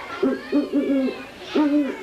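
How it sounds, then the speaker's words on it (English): A great horned owl giving deep, resonant hoots in two close rhythmic series, loud and near, with no other sounds. "Now, let's listen to that deep hooting sound."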